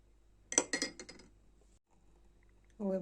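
A spoon clinks against a glass bowl while jelly mixture is stirred for a two-ingredient dessert, a quick cluster of bright taps followed by quiet, then a voice starts speaking.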